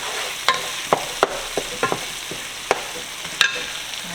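Mushrooms being stirred into a hot pan with ground beef: a series of sharp, separate scrapes and clacks of the utensil against the pan, roughly one every half second, over a faint, low background sizzle.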